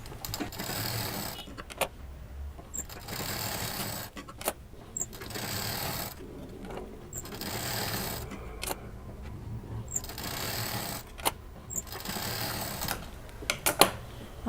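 A sewing machine stitches patchwork pieces in repeated runs of a few seconds each. Clicks and brief mechanical knocks separate the runs, and the sound stays moderately close and steady.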